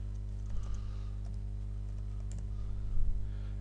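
Ruby code being typed on a computer keyboard: a few soft key clicks in short bursts near the start and end over a steady low electrical hum, with no talking.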